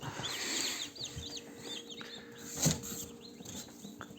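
Fourteen newly hatched chicks peeping under a heat lamp in high, repeated chirps, fairly faint and close, with soft rustling underneath.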